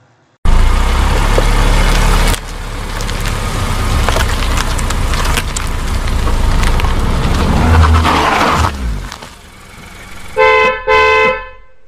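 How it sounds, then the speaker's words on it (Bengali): A car rolls up and stops in front of a house: a loud engine rumble builds and holds, then fades as it halts, followed by a couple of short horn toots at the end. "একটু বাদেই গাড়ি এসে দাঁড়ায় বিনয়বাবুর বাড়ির সামনে।"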